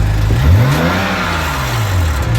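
A BMW 335i with the twin-turbo N54 engine and worn wastegate actuator rods, revved once and then dropping back, a loud close engine swell that settles into a steady idle.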